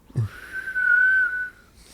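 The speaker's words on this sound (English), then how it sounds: "It's a breathe in whistle." A single sustained whistle made by breathing in, close and clear, holding one pitch for over a second before cutting off.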